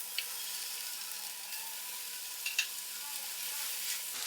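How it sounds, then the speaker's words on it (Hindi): Butter melting in a pan for a lemon butter sauce makes a soft, steady sizzle with a few faint clicks, quiet and close, with no talking. "मक्खन को मेल्ट करेंगे।"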